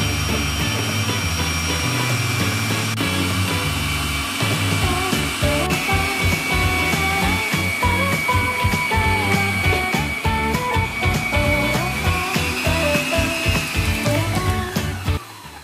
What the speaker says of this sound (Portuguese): Terminando de pôr a farinha, eu já ligo minha batedeira das claras de neve.